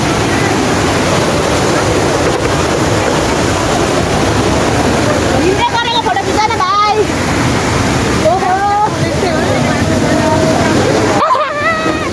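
Jhor waterfall roars in a steady, loud, full wash of falling water heard from close by, with a few brief higher voices and splashy movements rising over the constant rush.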